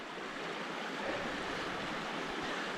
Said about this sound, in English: Second water crossing. Allison Falls. A lot of water.